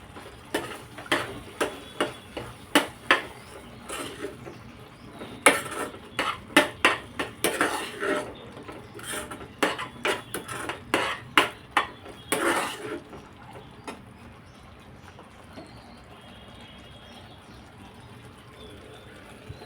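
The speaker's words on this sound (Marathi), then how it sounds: "आता यामध्ये मी मिक्स हर्ब्स ॲड करते 1 स्पून." Spoon clinking and scraping in a pan while red tomato-sauce pasta with mixed herbs is stirred, a dense run of sharp metallic taps for about thirteen seconds, close and fairly loud, then tapering off to quiet.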